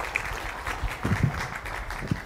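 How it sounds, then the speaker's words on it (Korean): An audience at a KAIST lecture event applauds as a speaker, the university's president, is introduced. The clapping is a steady, moderately loud patter with a few sharper claps standing out. "큰 박수 부탁드리겠습니다."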